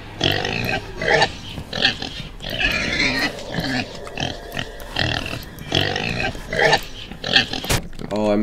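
Pig grunts from a Roblox butchery game, repeated short snorting bursts under a player's near, steady talk.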